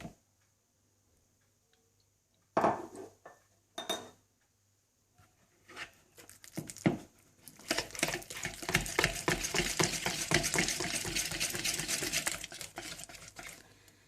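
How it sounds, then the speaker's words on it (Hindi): Butter being beaten in a bowl for butter biscuits, with a few scattered knocks early on and then a dense, fast run of scraping taps from the utensil against the bowl that continues steadily to the end, alone with no talk. "सबसे पहले आप मक्खन डाल लें और इसे अच्छी तरह से बीट कर लें"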